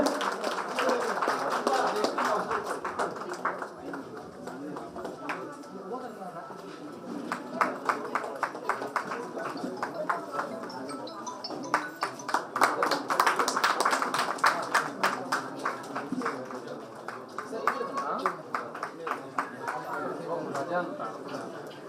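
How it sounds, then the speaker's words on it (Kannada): An audience claps at a village Kannada association gathering marking Labour Day and Environment Day, a long run of dense, uneven hand claps close by, with a voice speaking over it. "ದಯಮಾಡಿ ಜೋರಾದ ಚಪ್ಪಾಳೆ ಹೊಡಿಬೇಕಾಗಿದ್ದು ನಿಮ್ಮ ಪ್ರಾರ್ಥನೆ"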